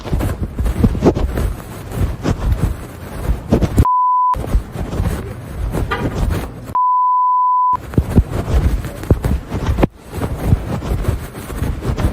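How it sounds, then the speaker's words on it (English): Two flat censor beep tones, one short and one about a second long, interrupt a noisy recording of voices and movement. "when you can hear beeps in this recording, it is to cover up the sound of voices"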